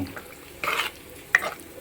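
Goat liver curry frying in a pan over medium flame, a soft, close sizzle broken by two short bursts of stirring scrapes, with a sharp clink near the end.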